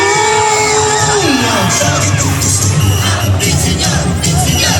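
Loud festival crowd at the Bambino Sinulog Festival in Pasig City cheering, shouting and whooping close by, with a voice over the noise at the start and a continuous roar of excited babble throughout.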